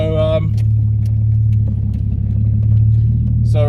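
A car with a suspected sensor fault drives on the road with a steady low engine and road rumble throughout, loud and close, while brief voices are heard at the start and end.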